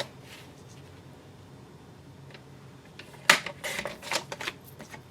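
Paper being cut for holiday catalog charts: after a quiet stretch, a short run of crisp, rasping snips comes up close and clear in quick succession, with no talking.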